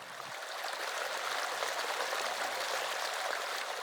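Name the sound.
flowing water of the Alhambra gardens water staircase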